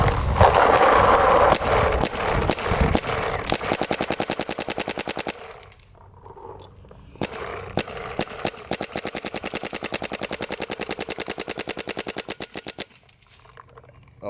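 A Field One Force paintball marker fires rapid strings of sharp, close pops in fast bursts separated by short pauses, with a few single shots near the start.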